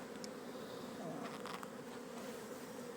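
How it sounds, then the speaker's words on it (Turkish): Honeybees buzzing at an opened beehive during a winter inspection in Kozan, Adana: a steady, close drone of many bees with no voices. "Bak arı sakin."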